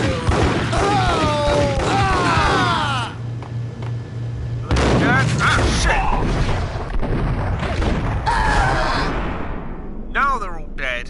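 Gunfire from the Max Payne video game, with bursts of shots and booming reports under continuous game voices and music, loud and close throughout.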